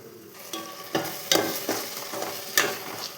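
Meal maker soy chunks are sautéed in a pan, with a soft steady sizzle broken by several distinct stirring scrapes and clanks of a spoon against the pan.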